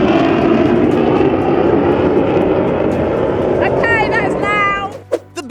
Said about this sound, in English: she was completely stunned by the sheer volume as the Vulcan bomber displayed its immense power